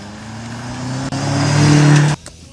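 A BMW M5 with a twin-turbo petrol V8 revving hard, a loud rising engine note that climbs steadily for about two seconds before cutting off abruptly, close and with no talk.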